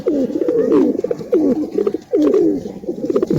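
Native domestic pigeons coo in repeated low, rolling phrases, close and fairly loud, with brief pauses between calls and no talk over them.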